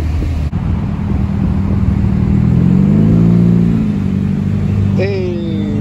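A Mazda Miata passes in traffic, its mid-pitched engine note rising to a steady hum and fading amid continuous road noise, with a brief squeal or whine near the end.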